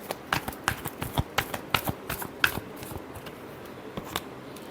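Tarot cards are shuffled close by in a quick run of crisp slaps and riffles, about a dozen sharp, uneven taps over a few seconds with no voices.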